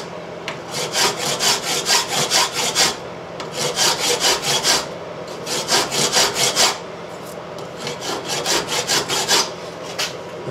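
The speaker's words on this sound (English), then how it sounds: "for what it is, we'll just use a file" A hand file is worked over built-up weld metal on a metal part, with rhythmic rasping strokes in quick bursts of four to six, separated by short pauses, loud and close.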